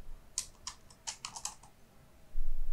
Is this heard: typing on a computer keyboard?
yes